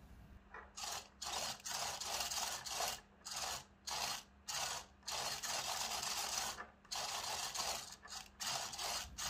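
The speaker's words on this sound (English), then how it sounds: "I take this more developed design, which is run by the servo, and I start to put it through its paces" A servo drives a homemade attitude director indicator for an A-10C simpit through a stress test, making a close, rhythmic mechanical whir that starts and stops in short bursts of varying length.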